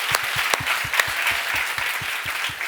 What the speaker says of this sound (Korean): 우리 하나님께 감사와 영광의 박수를 드리기를 원합니다.